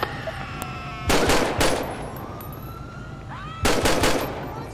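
Gunfire in GTA 5 with the LSPDFR police mod, two loud sharp bursts of rapid shots a couple of seconds apart over a wailing police siren and steady vehicle hum.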